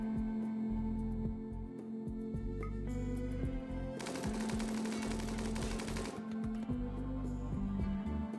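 Rapid area-fire gunfire in the RimWorld video game, a dense sustained rattle of automatic shots that swells into a loud, continuous burst midway and then settles back to steady firing, with no talking.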